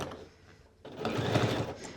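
A sewing machine stitches the armhole seam of a Cashmerette Kimball bomber jacket, with the cuff stretched to fit as it feeds. A quiet pause comes first, then a close, steady motorised whirr runs to the end.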